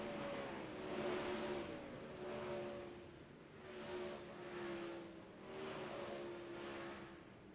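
Several 360 sprint cars race around a dirt track at night, engines droning and rising in repeated waves as the pack sweeps past, steady and fairly close with no talk.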